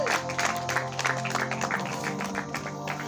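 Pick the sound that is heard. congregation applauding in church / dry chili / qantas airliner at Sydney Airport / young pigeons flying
congregation applauding in church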